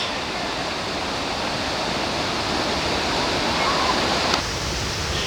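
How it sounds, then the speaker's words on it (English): Rushing river rapids at Castor River Shut-Ins, a loud, steady broadband roar of churning water heard close up and without talk. "Some more rushing waters right there. There's some more rapids."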